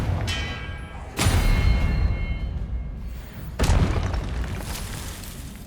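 Two heavy spell impacts from Expelliarmus and Confringo in the Hogwarts Legacy video game, each a sharp booming burst followed by a rumbling tail, spaced a couple of seconds apart with little else around them.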